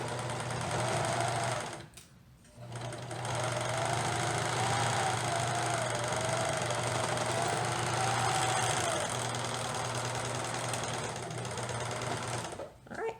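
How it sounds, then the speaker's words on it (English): A sewing machine stitches a seam on knit fabric for baby leggings, its steady motor hum running loud and continuous, broken by a brief pause early on before stitching resumes and carries to near the end. "Keeping the pin out of the way of the needle, but using it to help guide my fabric through."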